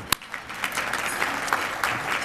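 Luncheon audience applauding after a speech, a short patter of clapping from a room of people with an initial sharp clap, continuing at moderate level to the end.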